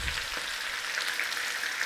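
Chicken pieces frying in a pot, a steady close sizzle with an even hiss that holds throughout.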